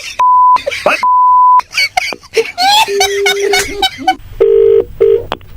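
Several telephone keypad beeps sound in quick succession, steady electronic tones separated by short gaps, with some giggling and voices mixed in.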